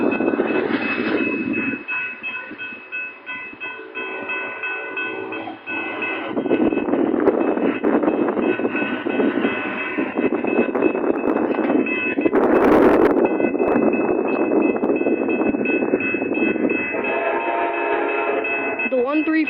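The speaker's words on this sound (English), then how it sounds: "is the 1340 Borealis Amtrak train." Amtrak Borealis 1340 passenger train passing a road crossing on Barker Road, a steady loud rumble of rail cars with a sustained horn-like tone, wind buffeting the microphone and a brief sharp burst midway.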